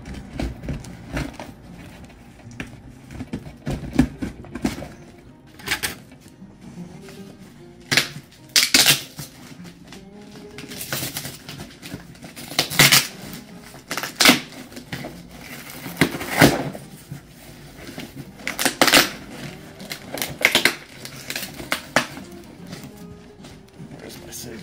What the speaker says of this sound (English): Cut through this tape.